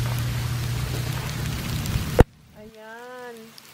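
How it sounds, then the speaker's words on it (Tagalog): Rain mixed with small yellow hail-like ice pellets, a loud dense patter of drops for a couple of seconds, cut off abruptly by a sharp click, followed by near-silence and a brief distant tone. "Yellow siyang maliliit. Parang hail. Pero maliit lang siya."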